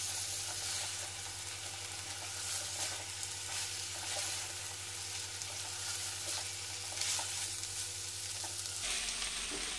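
Rice with fried rice ingredients sautéing in a pan, a steady loud sizzle and frying hiss with stirring scrapes continuing throughout, a low steady hum from a gas stove underneath, no talking.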